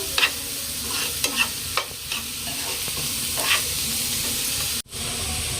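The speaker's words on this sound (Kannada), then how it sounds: "ಈಗ ಅದನ್ನ ಫ್ರೈ ಮಾಡ್ಕೊತೇನೆ" Chopped onions fry for an egg ghee roast, a steady sizzle in the pan broken by several sharp scrapes and clinks as a spoon stirs them, with a brief dropout near the end.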